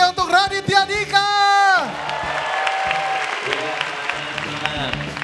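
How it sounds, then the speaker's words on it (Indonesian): A crowd applauds loudly, sustained clapping and some cheering, following a brief burst of music at the start. "beri tepuk tangan yang meriah untuk Raditya Dika."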